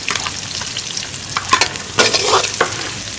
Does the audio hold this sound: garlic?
yes